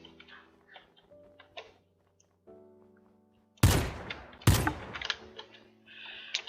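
Gunfire aimed at mobs in a modded Minecraft game: two loud, sharp bursts of shots crack out over quiet tonal game music and small background effects.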